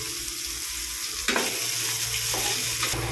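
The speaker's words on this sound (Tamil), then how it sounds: "இந்த முள்ளங்கி போடுறேன். முள்ளங்கி கொஞ்சம் வதக்கணும்னா ஜலதோஷம் இருக்காது" Radish pieces go into a pan of hot oil with fennel seeds, producing a loud, dense, close sizzle that swells sharply when they hit the oil and keeps hissing steadily throughout, with no voices.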